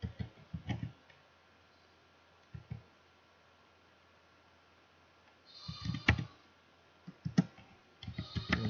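Keyboard typing while entering data into an Excel salary sheet: short bursts of close clicking keystrokes separated by quiet pauses, with no talking.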